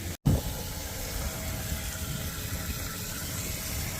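A fertilizer pump pushes water through lines in a cornfield, giving a steady broadband rushing, churning drone with a low mechanical hum, continuous and fairly close after a brief dropout at the start.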